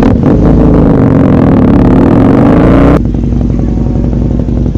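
Motorcycle engine revving up close, a loud, rough roar that builds for about three seconds, then drops abruptly to a lower, steadier idle-like drone.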